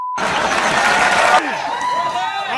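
An audience cheers and applauds in a loud, dense burst that breaks off after about a second and a half, leaving a voice ringing on over a quieter room.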